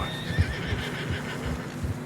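Horse whinnies and hooves crunch through deep fresh snow along a narrow trail in Red Dead Redemption 2, a snorting neigh near the start over steady hoofbeats and wind, no talking.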